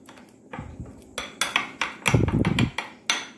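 Spoon stirring a homemade hair-treatment batter with two spoons of coconut oil in a bowl, giving a series of close, sharp clinks and scraping knocks against the bowl in an irregular rhythm, with no talk.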